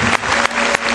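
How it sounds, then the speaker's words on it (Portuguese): A church congregation claps in steady, dense applause, loud and close, with a brief dip between bursts and no speech over it. "Aplauda o Senhor Jesus pela vida."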